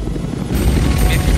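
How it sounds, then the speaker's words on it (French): A helicopter flies in the film Fire Birds with a loud, steady rotor and engine roar that swells slightly partway through, heard up close with no clear talk. "J'ai même pas remarqué que l'hélicoptère tournait."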